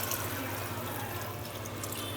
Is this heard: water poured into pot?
yes